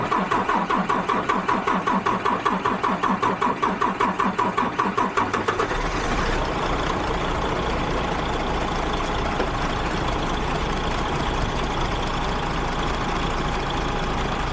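A rebuilt DAF XF truck's MX-13 diesel engine cranks in a rapid, steady chug for about five seconds, then catches and settles into a loud, even idle that runs on alone.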